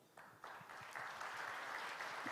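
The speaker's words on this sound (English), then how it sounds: "Please welcome him with an applause." Applause rises from an audience at an opening ceremony and investment forum, faint at first and then swelling in steps into a dense, sustained wash of many clapping hands. No one speaks.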